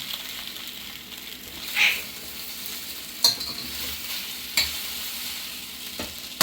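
Steamed methi muthiya dumplings are tempered in a pan, giving a soft, steady sizzle with a few sharp clinks of stirring spaced a second or so apart.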